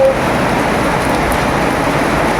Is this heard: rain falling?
yes